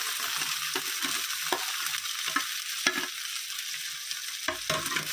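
Green peas and chili frying in a pan for a winter pea kachori filling, a steady broadband sizzle with scattered stirring scrapes and clicks, close and fairly loud with no talking.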